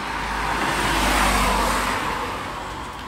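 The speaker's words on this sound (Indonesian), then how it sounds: "Dan ini bisnya warna merah." A red city bus arrives on an Amsterdam street, its engine rumble swelling as it approaches and then easing off, loud and near over steady traffic noise, no talking.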